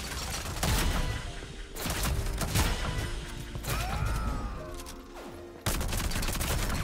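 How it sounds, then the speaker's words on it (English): Loud bursts of shotgun fire in the Rogue Company shooter game, several heavy blasts with brief gaps between them, mixed with clattering game effects and mechanical clicks. "It's a shotgun."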